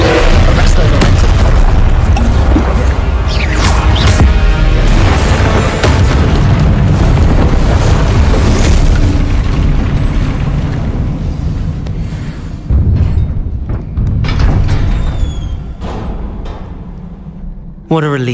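Repeated spell blasts and booming explosions from Hogwarts Legacy gameplay, loud and dense throughout with rumbling low-end impacts, a brief lull near the end, and a voice speaking over the action.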